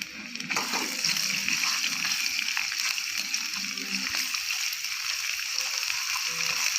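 Garlic and ginger paste frying in half a cup of hot cooking oil for mutton kaleji, a steady close hiss and sizzle with light spattering throughout.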